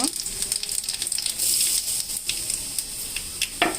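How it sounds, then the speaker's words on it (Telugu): Cumin seeds sizzling in hot peanut oil for tempering a chutney, a bright steady crackling hiss with a few sharp pops, close and fairly loud, a voice faintly underneath. "ఇప్పుడు కాస్త కాస్త తీసుకొని తాలింపు పెట్టుకుందాం చూడండి పల్లి నూనె పోసుకోవాలి"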